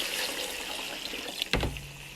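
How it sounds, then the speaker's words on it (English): Water streams into a cooking pot holding browned meat, a continuous splashing pour that ends with a brief clatter, close and moderately loud. "Next, I'm going to add water. This is about 10 cups of water."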